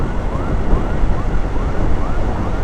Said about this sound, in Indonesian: ambulans lagi bawa pasien, mungkin biarin duluan aja